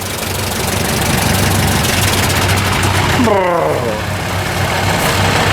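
Several farm tractors idle together outdoors, a steady, loud diesel rumble with a knocking edge that runs unbroken throughout.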